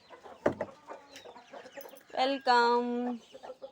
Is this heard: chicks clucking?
yes